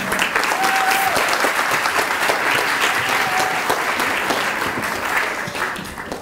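An audience applauds students from Parkland Elementary, a dense, steady burst of many hands clapping that tapers slightly toward the end.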